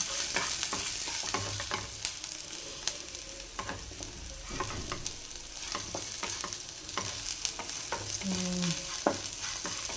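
Onions frying lightly in a pan for Karnataka-style erekayi (ridge gourd) palya, with a steady soft sizzle and scattered stirring scrapes and clicks throughout, close and moderately loud, no talking.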